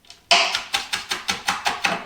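Kitchen knife chopping onion, garlic and sun-dried tomatoes on a cutting board, a run of eight sharp, evenly spaced close-up knocks after a faint first tap.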